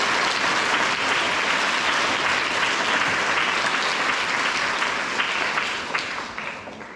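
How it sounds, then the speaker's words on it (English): A school audience at a junior school assembly gives two boys a round of applause, sustained close clapping from many hands that thins out and tapers off in the last second. "Let's give those two boys a round of applause."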